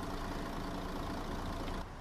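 Simulated Mercedes-Benz Citaro G bus engine in OMSI 2, a quiet, steady low idle rumble that holds evenly, then drops slightly near the end.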